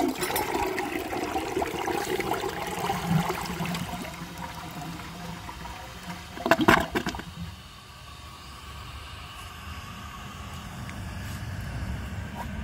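A 1992 Universal-Rundle Atlas open rim toilet flushes with rushing, gurgling water that gradually subsides into a quieter refill trickle, with a brief clunk partway through.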